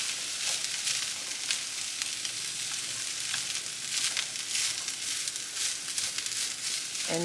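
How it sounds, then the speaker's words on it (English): Cooked ground beef and onion sizzle steadily in a skillet, a dense, even crackling hiss with scattered spits and pops, close and alone. "I am adding my ground beef back to the skillet with some onion."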